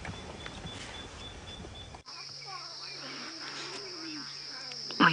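Eight young lion cubs call at dusk on a safari drive, a run of wavering, chirping mews and squeals up close, with a steady insect drone behind them and a brief loud burst at the end.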